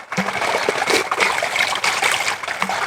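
Water trickles from a rock into a clear stream in the Idanre Hills of Nigeria, a steady close splashing flow that runs without a break.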